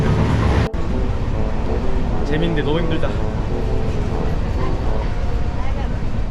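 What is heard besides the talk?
inside a moving train in India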